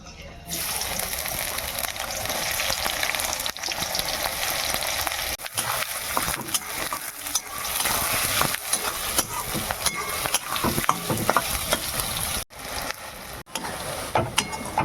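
Chopped onions frying in a pan for a coriander chicken curry, with a steady loud sizzle running throughout and a few brief dips.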